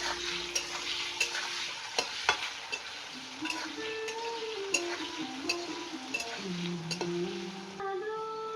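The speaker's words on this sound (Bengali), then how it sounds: "তেলটা গরম হয়ে গেল, আলুগুলো একটু ভেজে নেব।" Potatoes seasoned with salt and turmeric fry in hot oil, a soft continuous sizzle with occasional stirring clinks and light spatula scrapes, fairly quiet and close.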